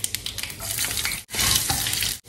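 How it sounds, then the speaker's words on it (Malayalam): Chopped shallots hit hot oil with fenugreek for a Kerala-style fish curry, bursting into a loud, steady broadband sizzle with two brief gaps, close and alone, with no talking. "ഇനി അതിലേക്ക് ചെറിയുള്ളി അരിഞ്ഞ് വെച്ച് ഇട്ട് കൊടുക്കുകയാണ്."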